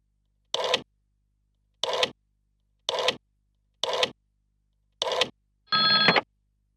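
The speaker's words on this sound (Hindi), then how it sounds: "अब अरुण को फोन करो।" A telephone rings in a Hindi-dubbed South Indian action film scene: six short, evenly spaced rings sound clearly against silence, and the last ring is longer and more tonal.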